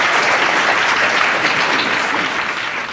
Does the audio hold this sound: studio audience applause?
yes